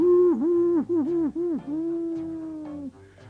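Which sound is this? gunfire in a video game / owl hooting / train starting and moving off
owl hooting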